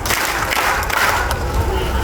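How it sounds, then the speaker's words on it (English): A graduation crowd at a secondary school ceremony applauds, a dense wash of clapping with some cheering, loud and continuous across the short stretch. "let's give a round of applause to the guests of honors who are on stage today."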